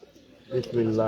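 Racing pigeons coo at the Shah Ali pigeon club in Mirpur during the first day of a 37 km tournament, soft throaty calls swelling midway under nearby voices talking.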